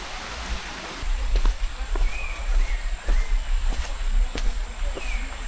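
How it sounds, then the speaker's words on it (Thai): A stream flows beside a forest trail on the way to Chet Khot waterfall in Saraburi, giving a steady, close rushing hiss, with scattered light clicks and steps over the water. "เจอลำธารระหว่างทางแบบนี้"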